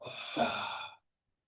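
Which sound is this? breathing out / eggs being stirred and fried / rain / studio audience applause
breathing out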